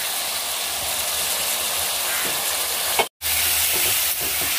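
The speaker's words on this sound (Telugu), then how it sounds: "ఉల్లిపాయలు, మునక్కాయలు, పచ్చిమిర్చి మంచిగా మగ్గుతున్నాయి." Sliced onions, drumstick pieces and green chillies sizzle steadily in a hot pan with rock salt and turmeric, a continuous close frying hiss broken by a brief stirring scrape and a momentary gap.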